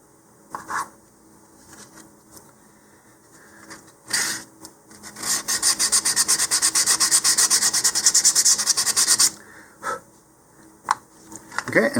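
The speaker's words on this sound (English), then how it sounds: "So the other thing I'll do right now is sand the contact point of the launch lug there." Sandpaper rubs the launch lug contact point on a LOC Precision Graduator model rocket in a long, loud, rhythmic stretch of rasping back-and-forth strokes, preceded and followed by a few brief scrapes and handling noises.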